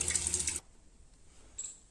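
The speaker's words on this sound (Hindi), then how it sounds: "पानी डाल के छोड़ देंगे" Water poured out steadily for about half a second, a splashy rush that cuts off abruptly and leaves quiet room tone with a faint clink afterward.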